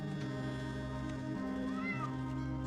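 Single cat meow, a short rising-falling call that is fairly faint, over a steady low hum and background drone.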